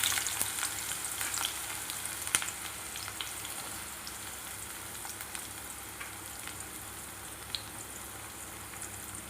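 Chopped onions with mustard and cumin seeds sizzle steadily in hot oil for an ivy gourd fry, a continuous crackling hiss with occasional sharp pops and light stirring, close and alone.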